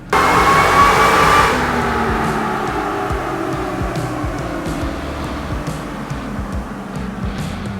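Toyota Tacoma engine running a short wide-open-throttle pull during tuning, a loud rising rev with a whine that peaks early, then settles into a steadier, easing drone.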